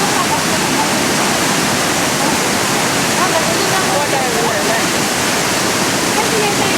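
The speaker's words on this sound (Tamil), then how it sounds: "தண்ணி விழுது பாரு, தெரியுதா?" Waterfall at Cave Falls in Nepal, a loud, continuous broadband rush of falling water filling the whole clip, steady and close with no breaks.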